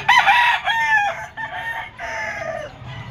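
A stag rooster at the Malabon pet market crows loud and close, one long harmonic call broken into several rising and falling segments across about three seconds, with busy market murmur faint underneath.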